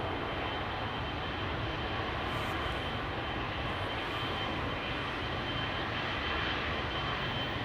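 A Turkish Airlines airliner takes off from a runway at Schiphol Airport, its engines giving a steady, loud, broadband roar that holds throughout, with no voices.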